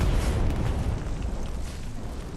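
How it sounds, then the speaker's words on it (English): A big explosion destroying an SPA vehicle, set off by a double satchel charge in the game Hell Let Loose, heavy booming roar that starts loud and rolls off over a couple of seconds, no voices. "Big explosion there on that SPA, taking it out."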